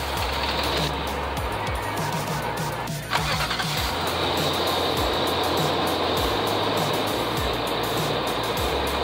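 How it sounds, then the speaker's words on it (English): A 2004 Nissan Titan engine, just fitted with a new fuel pump, turns over and runs with a steady loud drone, a brief knock and shift around three seconds in, then a continuous even idle. "we're gonna start the vehicle"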